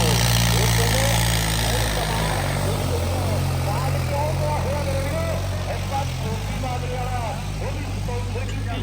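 A John Deere tractor engine chugs steadily at close range at a trolley-pulling contest in Ludhiana, a low rumbling drone, while people talk over it.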